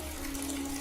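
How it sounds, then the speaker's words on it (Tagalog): Water running from a faucet in a home bathroom, a soft, steady hiss of flowing water with a faint hum underneath, heard alone and fairly quiet. "biglang nakarinig kami ng may nagbukas ng tubig sa CR"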